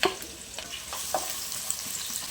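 Sliced large onion hits hot coconut oil in a pan, giving a steady sizzle and frying hiss with a few light stirring scrapes and clicks throughout, fairly close and moderately quiet.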